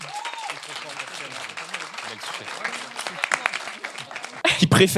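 Audience applause on a French talk show about dating standards, a moderate crowd clapping under scattered voices and cheers, with a sudden louder burst of sound at the end.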